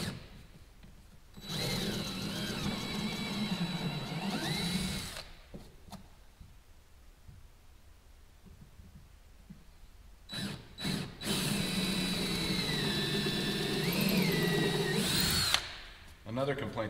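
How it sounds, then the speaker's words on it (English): A power drill whines in two long bursts, revving up and down as it bites into material drilling pilot holes in a workshop, with a quiet pause between runs and a short final burst. "Let's see if we can drill some holes here."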